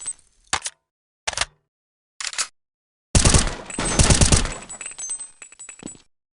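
Counter-Strike 1.6 gunfire: three short separate shots spaced about a second apart, then a longer rapid automatic burst with clattering tails, loud and close, ending in silence.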